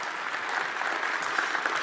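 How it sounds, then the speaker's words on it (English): An audience at an Australian of the Year awards ceremony in South Australia applauds after the national anthem, a dense, even wash of clapping heard alone. "keep that applause going for Carla from All About Her"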